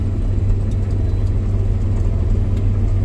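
Steady, loud engine drone from inside a tractor cab, a continuous low rumble and whir holding even throughout, while the tractor works alongside a driverless grain cart.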